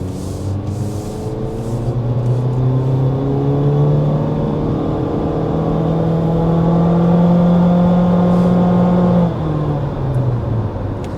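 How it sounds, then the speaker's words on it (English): A 2025 Honda HR-V Sport accelerates hard from inside the cabin, its engine tone climbing steadily through the revs, then dropping off as the driver lifts near the end, loud and continuous. "So there's acceleration with the 2025 Honda HR-V"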